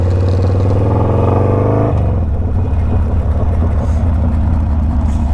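A motorcycle runs smoothly along Oso Parkway with no other traffic, its engine droning loud and close with a rising pitch that drops sharply as it shifts, then settles into a steady rumble.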